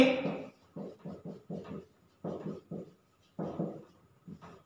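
Pen or chalk writing notes on a surface, a series of short scratchy strokes in quick bursts separated by brief pauses, close and quiet.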